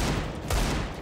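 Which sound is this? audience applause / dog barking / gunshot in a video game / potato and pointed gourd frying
gunshot in a video game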